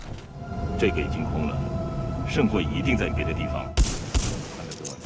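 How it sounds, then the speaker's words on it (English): Titanfall 2 gameplay: two heavy EVA shotgun blasts and a frag grenade thrown at a wall, sharp bursts over constant in-game machinery and ambient noise, with a loud crack near the end. "shoot twice with the EVA and throw the frag at the wall"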